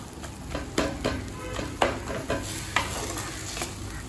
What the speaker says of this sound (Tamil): நல்லா கரண்டியாலே மேஷ் பண்ணி விட்டுருங்க.